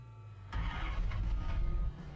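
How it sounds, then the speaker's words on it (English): Car engine fitted with FiTech ignition timing control, with the distributor freshly installed, cranks and catches at close range, running steadily for over a second before the level drops off. "Now with the key back on, we can get the engine started after the distributor's been installed properly."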